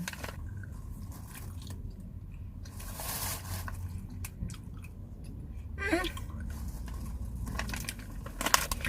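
Someone eats fried pork and omelette right at the microphone, with steady wet chewing and occasional crunchy bites over a soft indoor background.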